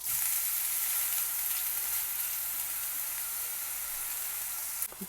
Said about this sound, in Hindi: अब इसको हल्की आंच पे दोनों साइडों से पका लेंगे